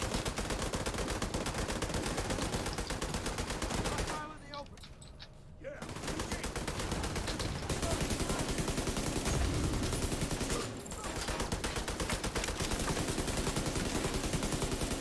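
Dense, rapid gunfire from a shooter video game, The Division 2, rattling almost continuously for fifteen seconds with two brief lulls, loud and close, with a voice faintly mixed in.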